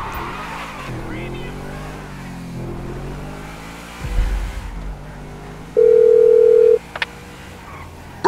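A phone call plays over speakerphone in the GTA V prologue, a steady tone sounding alone for about a second partway through, with talk and car engine noise around it.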